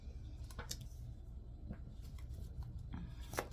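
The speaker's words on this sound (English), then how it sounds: "Still shuffling backwards." Tarot cards being shuffled by hand during a reading, giving soft, close riffling and slapping bursts at irregular intervals over a quiet room background.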